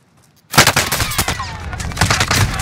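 Rapid automatic gunfire from a weapon in Call of Duty: Vanguard bursts in loudly after a short silence, a dense stream of close shots with a few sharp cracks standing out.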